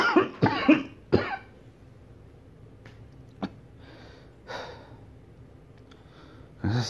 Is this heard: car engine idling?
no